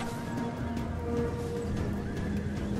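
Steppe horse archers' mounts in Total War Rome 2 neigh and whinny over a dense, continuous rumble of hooves and battle noise.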